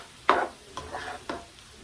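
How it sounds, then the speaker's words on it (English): Steak, potatoes and broccoli stirred together in a single pan, giving three short scraping, clattering strokes close by with quiet gaps between them and no talking. "Give that a good stir."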